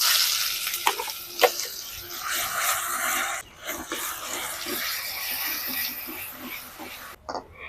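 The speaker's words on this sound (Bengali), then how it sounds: "তেলটা গরম হয়ে গেছে এবার দিয়ে দিচ্ছি কালো জিরে আর অল্প একটু হিং" Nigella seeds and a pinch of asafoetida hit hot oil for a green peas kochuri filling, giving a steady hissing sizzle with a few small clicks and scrapes.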